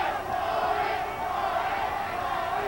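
A boxing arena crowd roars steadily behind the challenger during a Marco Antonio Barrera bout, a dense, sustained wash of cheering voices with no single voice standing out.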